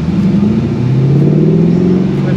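A Camaro engine pulls steadily under acceleration, a loud, continuous low drone with a slowly rising pitch, close and unbroken for the whole stretch.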